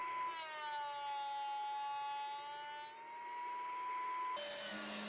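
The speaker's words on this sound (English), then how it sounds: "I adjusted my planer and ran the walnut through, taking it to its final width of 1/2 inch." A thickness planer feeds walnut stock through its cutterhead, giving a loud, steady high-pitched machine whine with a strong harmonic tone that drops back slightly near the end of the pass, alone with no talk.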